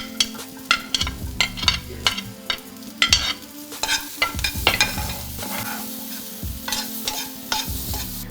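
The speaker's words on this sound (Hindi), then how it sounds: "यानी कि फूल गोभी डाल रही हूँ। इसे भी थोड़ी देर के लिए अच्छे से ब्राउन कर लेंगे।" Cauliflower, beans and carrots sautéing in a pan, a soft sizzle under repeated scraping stirs of a spoon against the pan, irregular clatters recurring every second or so, with no voices.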